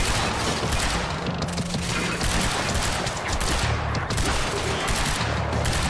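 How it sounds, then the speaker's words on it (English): Dense, continuous gunfire in the video game Quantum Break, rapid overlapping shots and crackling bursts filling the whole stretch at a loud, unbroken level with a few brief gaps. "I can just, you know, shoot them."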